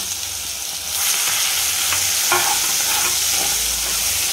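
Cumin, curry leaves and green chili thecha hit hot oil in a pan, a loud sizzle that surges after a quiet start and keeps hissing steadily, with a few stirring scrapes.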